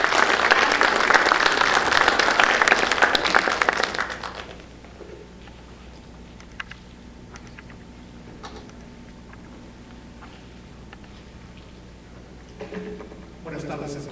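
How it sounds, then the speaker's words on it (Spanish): An audience at a criminal law congress in Mexico City breaks into loud, dense applause that lasts about four seconds and then fades to a quiet room with faint shuffling and a few stray sounds. "Un fuerte aplauso por ahí,"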